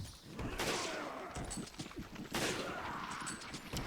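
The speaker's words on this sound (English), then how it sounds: "If you want to play with a rifle, it's best to play as Sheva or Jill." Rifle shots ring out in Resident Evil 5's Mercenaries mode, sharp reports spaced about two seconds apart, each trailed by clattering action sounds, loud and close with no talk.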